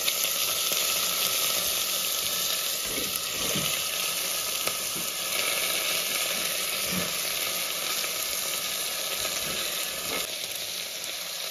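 Soaked green peas sizzle and fry steadily in a hot pan of oil, a loud, dense crackle that runs unbroken throughout with a few soft stirring knocks.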